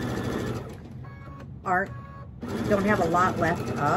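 A sewing machine stitches a quilted mug rug in short bursts, running in brief rapid spurts between pauses while someone talks nearby.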